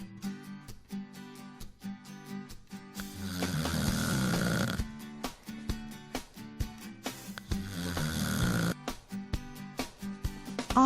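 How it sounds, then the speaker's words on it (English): A sleeping person snores in a slow, regular rhythm, with two long, loud rasping breaths standing out among shorter repeated snorts, close and clear with no talking. "Do you snore when you sleep?"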